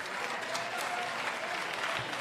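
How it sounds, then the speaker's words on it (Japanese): Audience applause after a timed fight bout ends, a steady, dense wash of clapping from a crowd that holds an even level throughout, slightly distant and without talk on top. "最後の最後まで戦い抜いた2人に大きな拍手をお送りください"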